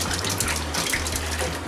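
A tablespoon of purple shampoo is stirred into a basin of water, with a steady, close swishing and gushing of water throughout.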